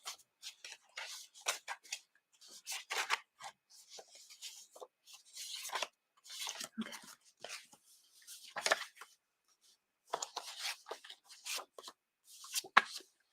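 Tarot cards are shuffled and pulled from the deck in soft, quiet bursts of rustling and slapping, separated by short pauses. No one speaks.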